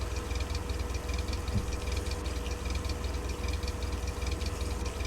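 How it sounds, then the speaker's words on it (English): Car engine idling in The Long Drive video game, a steady low rumble with a faint rhythmic knock and rattle throughout, the revs sagging slightly as it runs rough and close. "You can hear the engine RPMs dropping."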